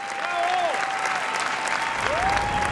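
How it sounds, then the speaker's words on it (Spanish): Final applause from a theatre audience in Santiago, Chile, after a Pina Bausch dance performance: dense, sustained clapping from a large crowd with a steady texture, while a voice speaks over it. "Aplausos finales en Santiago para Pina Bausch."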